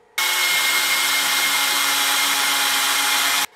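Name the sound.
power drill driving a pocket screw into wood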